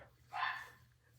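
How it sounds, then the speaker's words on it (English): A single dog bark, faint and somewhat distant, sounding in the background of an indoor room with low hum. "Excuse my dog in the background."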